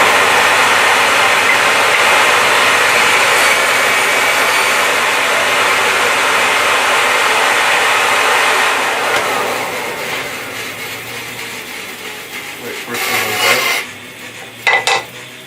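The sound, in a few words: BS350 bandsaw cutting timber for pen kit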